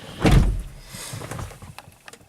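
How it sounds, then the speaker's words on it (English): Door of a 2006 Land Rover Discovery 3 swung shut from inside the cabin, one solid low thump early on, followed by faint interior rustles and small clicks. "Let's go ahead and shut the door quickly."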